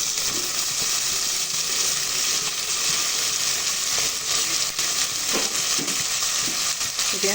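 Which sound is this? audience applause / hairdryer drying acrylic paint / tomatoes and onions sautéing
tomatoes and onions sautéing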